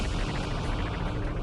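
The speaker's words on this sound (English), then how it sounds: "The morning calm is shattered by one massive explosion after another." Krakatoa's 1883 volcanic eruption rendered as a loud, continuous deep roar with a faint rhythmic pulsing running through it, sustained without a break.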